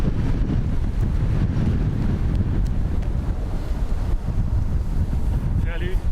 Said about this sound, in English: Fairly breezy this morning